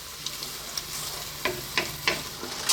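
Chickpea coconut curry sizzling softly in a pan, with several short scraping stirs of a utensil at regular intervals over a low, steady bubbling.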